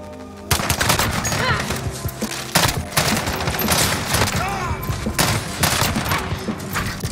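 FR 5.56 burst-fire rifle shooting in Modern Warfare, loud rapid clustered bursts of gunfire repeating throughout amid game effects.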